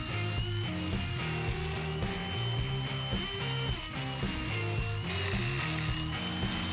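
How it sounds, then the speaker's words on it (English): A Merlin2 angle grinder fitted with a green carbide disc cuts texture lines into a wooden box, giving a steady close buzzing rasp with rhythmic pulses as the disc bites and lifts. "I'm going to use one of the new green carbide discs to make the lines that become the texture in the box."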